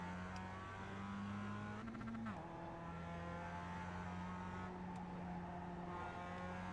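A Mazda MX-5 Cup race car at Laguna Seca in the iRacing simulator, its engine droning steadily at a fairly even pitch as it pulls back onto the throttle, with one brief shift-like change in tone, quiet and continuous throughout.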